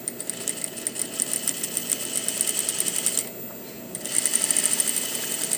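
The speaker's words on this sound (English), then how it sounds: "I'm just going to keep my eye there, so I sew this nice edge stitch" A sewing machine runs steadily at close range while stitching an edge along a skirt hem, with a rapid, even mechanical whir that stops briefly and then resumes.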